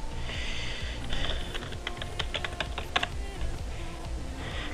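Fingers type on a computer keyboard to log in to Windows 7, a quick run of clicky keystrokes with a few sharper taps, close and clear.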